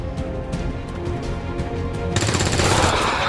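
Rapid bursts of automatic gunfire from allied resistance soldiers in the video game XCOM 2: War of the Chosen, a dense continuous rattle that swells louder and brighter in the final second, with no talking.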